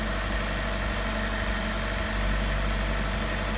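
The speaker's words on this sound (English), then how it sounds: "So with the engine running, it's going to run a test on it again." A car engine idles steadily with a low, constant rumble throughout, no voices.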